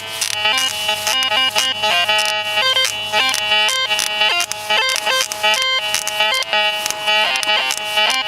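A Minelab-style MX Sport metal detector in relic mode sounds over an iron target, giving a continuous run of quick, choppy, broken-up electronic tones, loud and close, with no talk.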